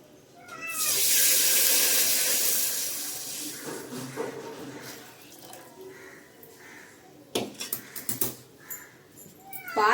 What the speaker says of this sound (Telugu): ఇందులో పాలు వేసేద్దాం